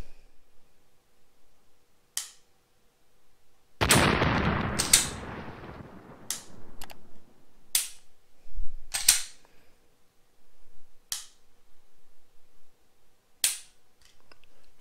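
An empty pistol being dry-fired, its trigger pulled and reset repeatedly: crisp, close clicks spaced a second or two apart, with a burst of rustling handling noise early on and no voices.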